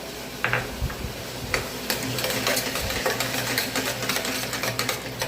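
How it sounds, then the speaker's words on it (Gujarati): Ginger, chili and coriander paste sautéing in a pan for pav bhaji, a steady low sizzle with scattered stirring scrapes and clicks, close and continuous, no voices. "હવે જો આની સાથે નાખી દઈશું આપણે આદુ મરચાં અને કોથમીરની પેસ્ટ. એને પણ સાતળી લેશું."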